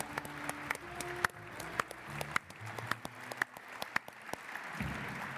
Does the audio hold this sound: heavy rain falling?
no